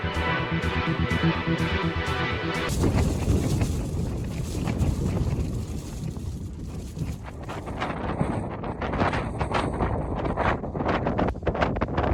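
Strong wind buffets a summit wild camp on Carrock Fell in the Lake District on a freezing night, a loud roaring gust hitting the microphone, then rustling and flapping through the rest with no voices.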